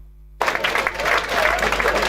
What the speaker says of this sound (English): Let's clap for all the candidates for Kawempe.